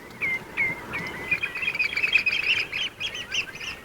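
Shore birds feed on the mud of a bay, giving repeated high piping and chirping calls that overlap in a lively, moderately close chorus.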